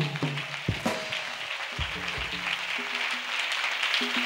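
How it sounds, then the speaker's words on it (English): Audience applause and clapping at an evangelistic church gathering swell into a steady, broad wash of many hands, with voices cheering and calling out beneath it throughout. "Acclamation. Clap."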